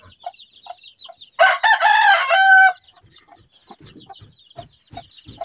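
Backyard chickens and chicks at a feeding tray, with a loud rooster crow mid-clip between soft scattered clucks and chirps, followed by quiet pecking and scratching sounds.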